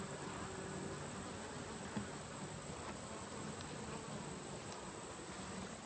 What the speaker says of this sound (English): I'm hearing more bees, so maybe I'm getting close to some positive activity here.